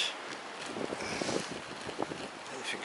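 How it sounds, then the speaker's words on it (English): Strong sea wind on the Isle of Wight coast rushes and buffets the microphone in steady gusts for the whole stretch, with a voice faintly murmuring underneath. "Because you can hear that wind,"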